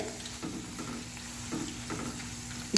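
Oil with whole spices heating gently on a low flame for biryani essence, giving a soft, steady sizzle with a faint constant hum and a few brief bursts of crackle, close by, with no voices.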